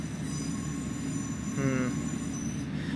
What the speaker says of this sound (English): And you get a lot of flange squeal and all.